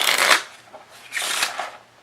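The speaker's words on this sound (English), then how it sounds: "I messed up in the shuffling or the bridge" Playing cards riffle-shuffled and bridged in two bursts, each a dense crisp flutter lasting about half a second, with a softer patter between them; close and moderately loud, with no talking.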